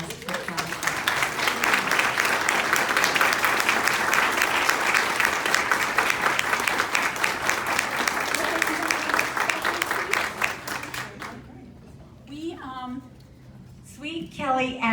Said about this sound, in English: Can we please give a round warm of applause for Kelly?